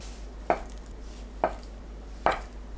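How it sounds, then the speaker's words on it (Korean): Knife cutting tofu into 1 cm thick slices on a cutting board, three distinct, evenly spaced chops, close and crisp against a quiet kitchen background. "1cm 두께로 썰어줍니다."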